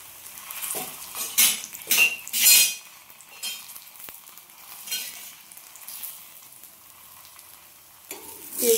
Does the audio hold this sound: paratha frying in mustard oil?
yes